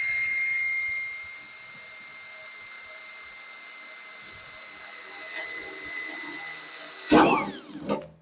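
Power drill boring a pilot hole in a metal grill lid, starting slow with a steady high whine that holds, then a burst of louder grinding and clatter near the end, up close.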